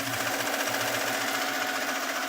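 HCH PLUS industrial and Acero X embroidery machines stitching satin columns at roughly 900 to 1,000 stitches a minute, a steady, fast, loud mechanical whir with rapid needle chatter running continuously.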